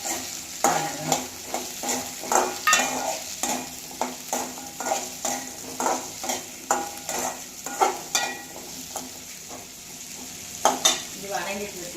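Dried red chillies and cumin sautéed for tomato chutney, stirred in a pan with a soft steady sizzle under regular scraping strokes of a spoon, close and moderately loud, with no talking.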